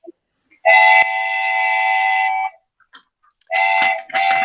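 A train whistle sound effect blows one long, loud steady blast, then two shorter blasts after a brief pause.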